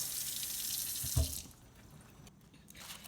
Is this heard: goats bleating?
no